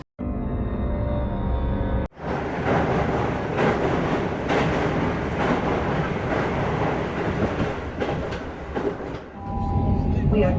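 A passenger train travels from Edinburgh to Fife, heard from inside as a steady loud rumble with rhythmic clatter of wheels on the rails, following a short burst of other sound at the start.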